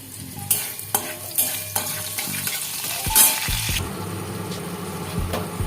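Dry red chillies, cumin and black cumin fry in hot oil in a kadai, with close sizzling punctuated by repeated spatula clinks and scrapes, the hiss surging briefly midway.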